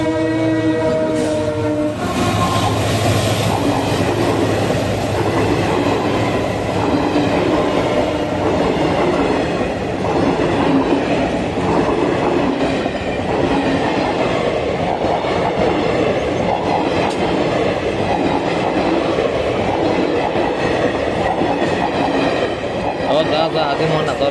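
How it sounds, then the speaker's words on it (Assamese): A train passing on railway tracks near a level-crossing gate, opening with a loud horn blast and then a steady, close roar of wheels and rattling wagons that continues unbroken. "আহি গ'ল ৰেলখন এইয়া চাই লওক আপোনালোকে"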